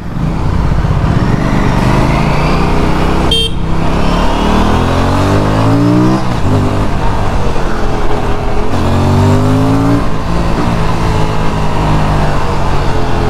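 An Aprilia RS 457 motorcycle on a test ride, its engine droning loudly and steadily with rising and falling revs as it shifts through the gears, heard up close with no talking.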